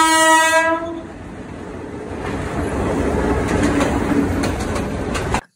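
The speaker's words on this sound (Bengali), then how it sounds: "এর মধ্যেই চলে আসলো জামালপুর স্টেশনের ট্রেন" A train pulls into Jamalpur railway station in Bangladesh, opening with a loud, sustained horn blast, then a steady rumble and rattle of rolling carriages close by, with no talking.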